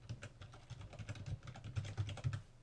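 Rapid, irregular clicks of typing on a computer keyboard, close and fairly quiet, with a few heavier keystrokes.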